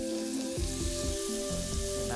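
Pork frying in a pan of hot oil, a steady close sizzle with soft bubbling crackle running throughout alongside a faint tonal hum.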